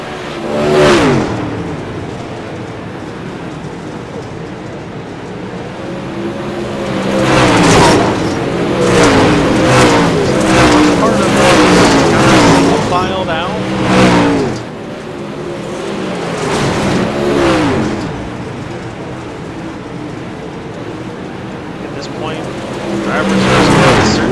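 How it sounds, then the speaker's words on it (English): Super late model race cars roar around a track during a winter racing league event in Lincoln, engines swelling and fading in repeated loud passes, with a race announcer talking over the noise throughout. "Tyler Ruggie now applying the pressure for the top spot here on lap 72."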